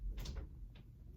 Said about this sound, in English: Close my door, thank you.